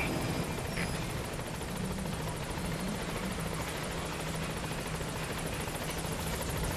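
The support helicopter Pequod arrives at a landing zone in Metal Gear Solid V, its rotor beating in a steady, dense thrum with turbine whine, loud and continuous throughout.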